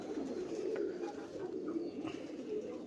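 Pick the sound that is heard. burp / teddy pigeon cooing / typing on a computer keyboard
teddy pigeon cooing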